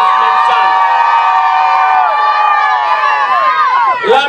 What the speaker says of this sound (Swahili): Mpigeni makofi sana.